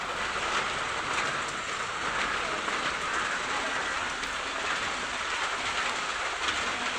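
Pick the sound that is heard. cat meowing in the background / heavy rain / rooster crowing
heavy rain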